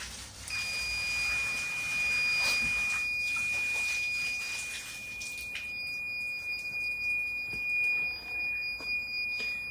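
A building fire alarm sounds after a sprinkler water flow switch trips. It gives a steady high electronic tone with a few short beeps and bursts of handling noise and clatter, and no speech.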